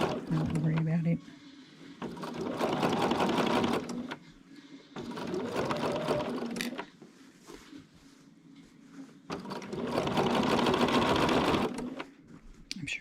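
Sewing machine running in bursts of a few seconds each along a long seam, a fast mechanical buzz stopping and restarting, with a voice talking in the pauses between runs.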